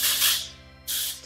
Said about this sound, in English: I like to use the n00bs dry texturizing spray